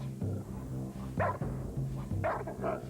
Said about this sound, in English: I'm going to tell Bertram to alert the dog